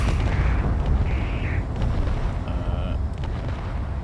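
Heavy booming gunfire in the Space Engineers video game as guns shoot at drones, a dense continuous rumble of shots and blasts with occasional sharper pops, loud and close.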